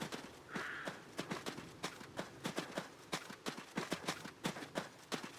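Horse hooves clip-clopping in the video game Adios, a steady walking rhythm of sharp, close hoof strikes repeating alone throughout.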